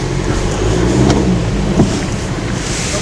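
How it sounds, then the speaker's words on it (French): A BMW X3 with xDrive rolls to a stop on rollers at the Montlhéry test circuit, a steady low engine and tyre rumble mixed with wind buffeting the microphone, with no speech. "Je vais venir arrêter mon auto avec les roues avant, ici sur les rouleaux"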